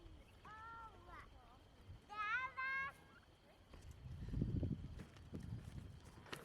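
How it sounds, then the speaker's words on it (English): Turkeys on a homestead gobbling in two short rapid warbling bursts, fairly close, followed by rustling and low thumping movement, with a person talking nearby. "We got turkeys out, so we're gonna get these turkeys in real quick."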